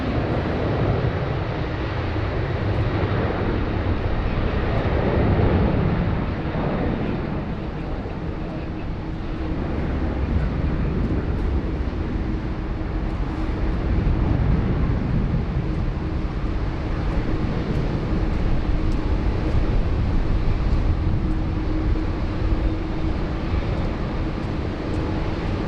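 A Qantas airliner, flight 23 bound for Bangkok, rumbles steadily at Sydney Airport in a broad, continuous engine roar that holds for the whole stretch with no talk over it.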